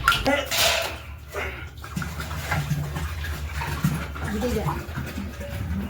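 Water pours into a clay pot with a continuous splashing gurgle close by, while people talk over it.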